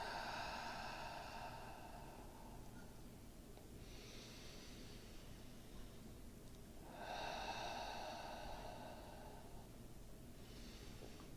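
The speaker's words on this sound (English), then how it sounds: "I'm inhaling through the nose and exhaling through the mouth" Slow, deliberate breathing during a guided exercise, drawing air in through the nose and pushing it out through the mouth, in soft, airy cycles that repeat about every three to four seconds, close and quiet with no talking.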